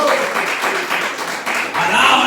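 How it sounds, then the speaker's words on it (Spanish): Congregation applauding in a church service, a steady wash of clapping mixed with voices over about two seconds, fairly loud and continuous. "Dale aplauso al Espíritu de Dios."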